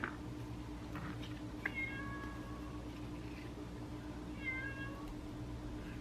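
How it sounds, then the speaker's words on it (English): A cat meows twice by a back door, a few seconds apart, each a drawn-out, slightly distant call over a low steady hum. "My cat is right by the back door just meowing"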